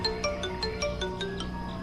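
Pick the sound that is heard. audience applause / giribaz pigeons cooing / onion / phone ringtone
phone ringtone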